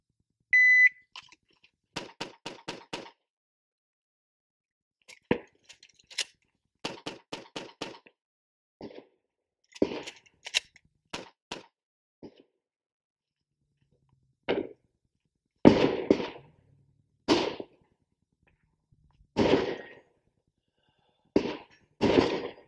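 A shot timer beeps once, then a handgun fires in quick bursts on a range during the 5-5-2 drill. The sharp, loud cracks come in clusters separated by short pauses, with the later shots spaced more widely.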